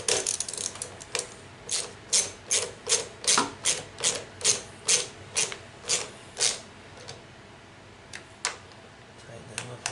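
Ratcheting clicks from tightening screws on a plastic carburetor, a steady run of about a dozen sharp, close, even-paced clicks that thin out and stop toward the end.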